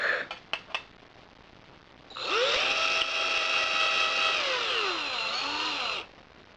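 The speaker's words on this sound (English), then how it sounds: "now I'm going to start drilling this thing." A power drill spins up and whines loudly for about four seconds, its pitch drifting and dipping as it bites into a Logitech Driving Force GT steering wheel part. A few light taps come before it, then it cuts off abruptly.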